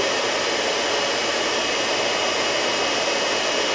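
A vacuum cleaner runs at reduced suction with a dusting brush attachment, giving a steady, loud, even airflow whoosh with no pauses or voices.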